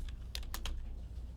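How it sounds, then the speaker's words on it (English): Quick keystrokes on a computer keyboard while entering spreadsheet labels, a short burst of a few distinct clicks over a steady low hum, no voices. "We're going to type totals here."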